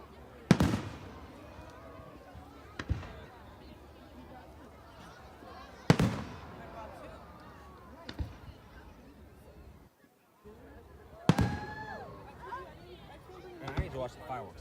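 Fireworks over the Berkeley Marina burst from a distance, several sharp booms spaced a few seconds apart with crackling tails, while people nearby talk and react.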